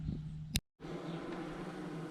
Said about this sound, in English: is my barrel bees. They're all coming in for the night.